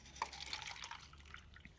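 Water poured into the center of a leafy plant, a soft trickle with a few distinct drips splashing among the leaves, close and quiet, no talking.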